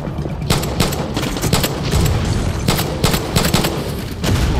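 Pistol fire mixed with heavier gunfire in the shooter game Far Cry 6, a dense loud barrage of rapid overlapping shots and booms running throughout with no talking.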